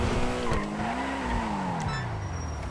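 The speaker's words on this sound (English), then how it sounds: "So look, it just takes forever to brake." Pegassi Toros SUV in GTA 5 braking hard for a long stretch, a steady tire squeal and skid over the engine drone, close and continuous until it slows.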